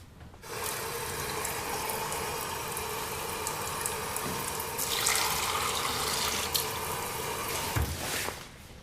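A household tap runs water into a sink, a steady hiss that starts abruptly, swells a little midway and ends with a brief clunk as it shuts off; no talking.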